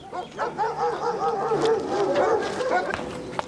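Dogs at a police dog training school in western Ukraine bark and yip repeatedly in an irregular series, moderately close, over a bed of outdoor background noise.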